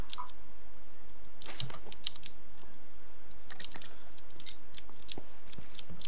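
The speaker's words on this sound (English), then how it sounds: "hear my keyboard?" Computer keyboard typing during a PUBG game session, a run of quick, light key clicks in irregular bursts, fairly close and moderately faint over a steady background hiss, with no talking.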